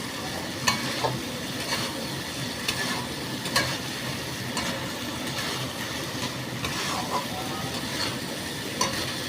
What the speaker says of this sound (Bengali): আলু দিয়ে একটু কষিয়ে নেব